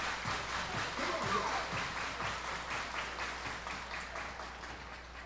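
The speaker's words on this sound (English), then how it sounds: "Everybody clap your hands." A minor-league baseball stadium crowd claps hands in a steady rhythmic beat, distant and moderate, beneath an announcer's voice.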